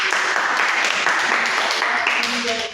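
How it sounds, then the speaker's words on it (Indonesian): Applause from a primary school Indonesian-language class for a pupil, a dense, steady patter of many hands close by that holds for nearly three seconds and fades slightly at the end. "Oke, tepuk tangan untuk adik Ditri."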